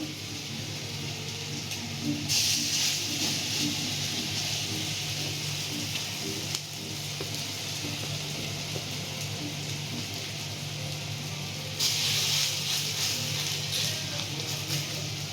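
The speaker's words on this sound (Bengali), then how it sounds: "ব্যাস, এই করে একটু লাল লাল করে ভেজে নেব।" Dal bora, lentil fritters, frying in hot oil in a traditional Bengali village kitchen, giving a steady, even crackling hiss with brighter bursts of sizzle partway through, continuous and moderately faint.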